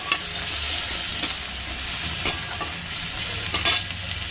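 Onion frying in a pan, a steady dense sizzle with occasional sharper crackles and stirring scrapes, close and fairly loud, no voices.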